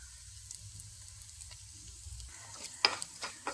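Garlic and ginger fry in oil with a faint, low sizzle, then a spoon stirs them with a few soft scrapes and clinks against the pan near the end.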